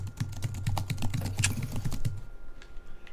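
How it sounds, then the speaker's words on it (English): Rapid clacking of a loud computer keyboard, with a burst of crisp, evenly spaced keystrokes close up for about two seconds before it falls quiet. "That's how loud my keyboard is."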